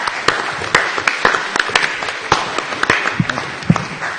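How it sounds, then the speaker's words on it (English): A symposium audience applauds the speakers, a brief, close round of clapping with distinct individual claps standing out against the general patter. "Please give a round of applause for all of our speakers"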